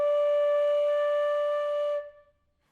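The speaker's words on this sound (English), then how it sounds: "how to get rid of that airy sound in the tone" A single sustained flute note, breathy, airy and unfocused from a too-wide lip aperture, held steadily for about two seconds before fading away.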